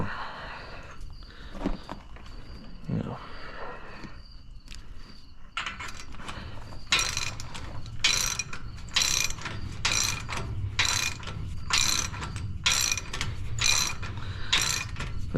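Repeated ratchet wrench clicking while bolts are tightened down on a John Deere 787 strip till: steady bursts of sharp metallic ratcheting, close and loud, following some quieter handling noises at the start.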